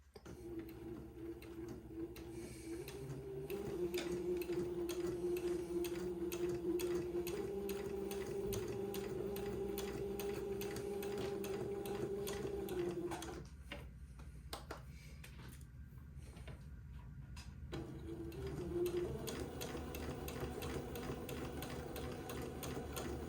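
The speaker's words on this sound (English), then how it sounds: "now I'm going to sew a straight seam on the side of the entredot beading" Sewing machine stitching a straight seam beside entredot beading, a close rapid mechanical whir with fast ticking needle strokes that runs steadily, stops briefly midway, then resumes, with no talking.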